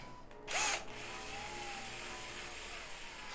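A power drill fitted with a bent bit is used while a case strap is being replaced, giving a short, close whirring burst of under half a second against a quiet background hum.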